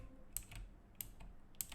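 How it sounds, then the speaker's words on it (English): A mechanical keyboard is tapped as softly as possible, giving three faint, evenly spaced clicks in a quiet room. "This is literally the softest I can hit keys."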